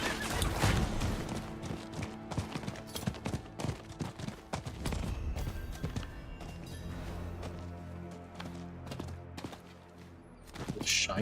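Horse mount galloping in Diablo IV, a steady rhythmic clip-clop of hooves running continuously under busy game music and effects, close and fairly loud throughout.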